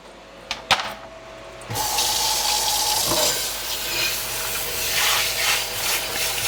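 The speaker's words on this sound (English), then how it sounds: "Cleanup's a breeze. It's non-stick, just requires a rinse out." Tap water pours steadily into a non-stick pan being rinsed after cooking scrambled eggs, a constant close rushing hiss that begins after a few faint knocks and carries on to the end.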